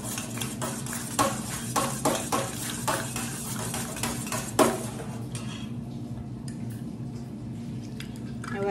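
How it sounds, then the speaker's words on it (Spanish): A spoon stirs chicha de saril drink in a pot, tapping and scraping the sides in a quick, uneven run of close clinks that thin out halfway through, leaving a quieter background with a few faint knocks. "Mezclo muy bien."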